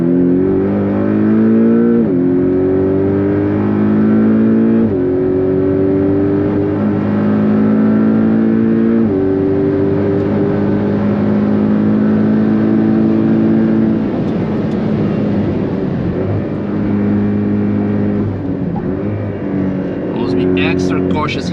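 A manual, mid-engine Porsche Cayman 718 GTS is driven hard on the Nürburgring on a cold day. Its engine note climbs loud and close, drops at each gear change, then rises again through several pulls, with wind and road roar throughout.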